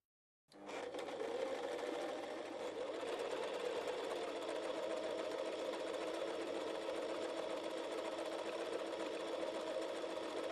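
An Empisal Protea Elite sewing machine runs satin decorative stitches, starting abruptly and then whirring at a steady, even pace, close and alone.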